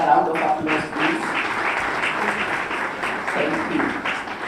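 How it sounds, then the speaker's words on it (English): Conference audience at an EPWP Indaba plenary applauds as a minister exits, moderate clapping running throughout with a voice heard over it at the start. "Another round of applause, please."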